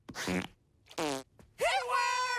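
A cartoon fart effect from an animated episode: three separate blasts, the last one long, rising and sustained, loud and alone with no talk over it.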